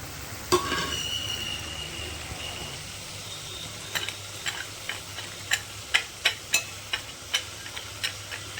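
A spoon stirs fried lentil boris through poppy seed paste in a pan, giving a soft sizzle and then a run of sharp, evenly spaced clacks and scrapes against the metal.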